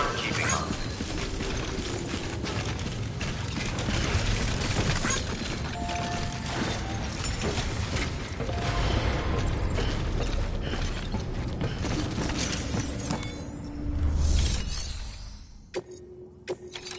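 Decontamination machinery in the video game Death Stranding runs as a steady mechanical whirr with ratcheting, creaking gear-like clatter, loud and continuous before dropping off abruptly near the end.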